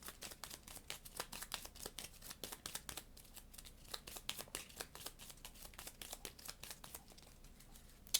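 Board game cards shuffled by hand at close range, a quiet steady run of rapid riffling and papery slaps with no voice.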